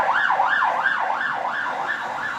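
An ambulance siren wails in a steady rising-and-falling cycle on a main road outside a window, loud and continuous with no talk.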